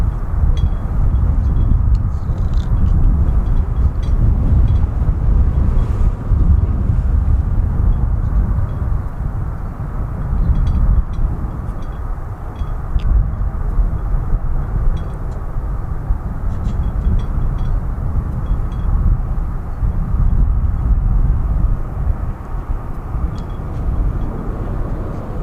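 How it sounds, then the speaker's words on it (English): An Airbus A220 takes off from runway 36 right at DFW with a continuous low jet roar that holds steady for the whole stretch, heard from a distance with no talking. "36 right, clip takeoff. This will be an Airbus A220."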